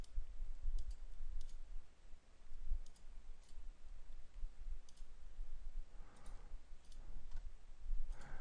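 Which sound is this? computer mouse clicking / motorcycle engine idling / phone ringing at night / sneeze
computer mouse clicking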